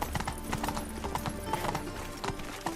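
Hooves of Roach, the horse in The Witcher 3, clopping in a steady walking rhythm over a layered game soundscape, moderately loud and close.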